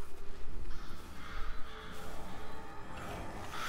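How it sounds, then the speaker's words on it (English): Crows cawing in the horror video game Condemned: Criminal Origins, several harsh caws over a low rumbling game ambience, moderately near and fairly faint. "Birds attacking shit."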